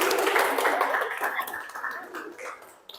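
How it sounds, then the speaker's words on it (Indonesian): An audience claps after a student presentation, a brief burst of mixed, fairly close clapping that gradually fades and thins over about three seconds. "beri tepuk tangan"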